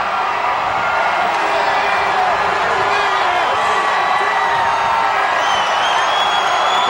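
A huge New Year's Eve crowd in New York City cheers and whoops continuously just before midnight, a dense, distant roar of many voices with scattered shouts and clapping, under faint broadcast chatter.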